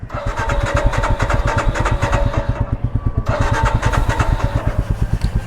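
A new Royal Enfield Scram 440 motorcycle cranks repeatedly as the starter turns the engine over in a fast, loud, rhythmic chug without catching, with a brief pause midway.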